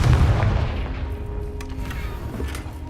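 A Confringo fire spell detonates in the Hogwarts Legacy video game with a heavy, close boom at the start, followed by a decaying low rumble and a couple of faint later thumps.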